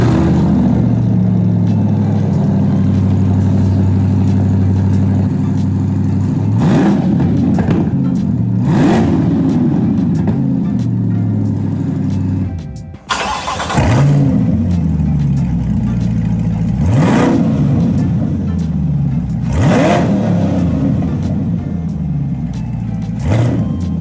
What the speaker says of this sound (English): While we have this exhaust off, let's start it without the exhaust.